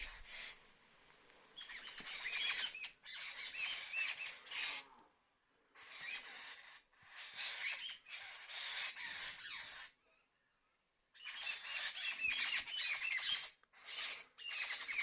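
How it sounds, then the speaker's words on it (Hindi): Seven sisters birds chatter in noisy bursts in a forest, with the crowing of wild jungle fowl among them; loud, repeated squawks and calls come in waves with brief quiet gaps. "यहाँ पे 7 सिस्टर्स ही बोल रही हैं, ये तो बोलती रहती हैं, लेकिन जंगली मुर्गे बांग दे रहे हैं बहुत ज़्यादा।"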